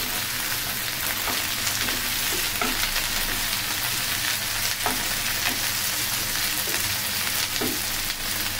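Okra frying in a pan on a stove turned up high, a steady dense sizzle that crackles continuously at close range with no voices.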